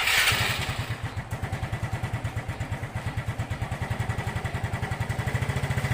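A motorcycle fitted with a universal killswitch starts up and runs with a steady, rapid chugging idle, close and fairly loud, with no talk over it.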